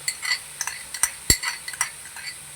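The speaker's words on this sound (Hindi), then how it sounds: "इसको मैं ज़रा फेंट रहा हूँ" Yogurt is whisked in a bowl with a metal utensil, producing a rapid series of light clinks and scrapes against the bowl, close and fairly crisp, with no talk.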